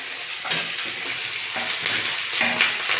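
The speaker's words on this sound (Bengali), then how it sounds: "ভালো করে ভেজে নেব" Chopped onions and capsicum fry in hot oil in a pan for chilli soya chunks. The sizzle is loud and continuous, broken by periodic scrapes and stirring.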